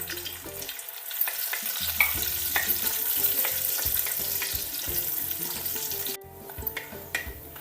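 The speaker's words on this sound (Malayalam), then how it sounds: "നെയ്യൊന്ന് ചൂടായി വരുമ്പോൾ നമുക്ക് കുറച്ച് അണ്ടിപ്പരിപ്പിട്ട് വറുത്ത് പോരാം" Cashew nuts fry in hot ghee in a pan, giving a steady close sizzle with stirring clatter and scraping throughout, with no talk.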